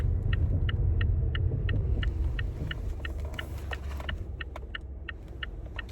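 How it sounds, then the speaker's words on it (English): A passing car on the road rumbles loudly close by, then fades as it moves away, with a steady series of regular high beeps ticking throughout, like an indicator or alert chime inside the stopped vehicle. "We're gonna let this car pass us."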